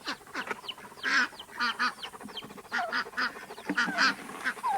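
A hen with her chicks being fed corn among other poultry, with loud, close honking and quacking bird calls repeating in irregular bursts.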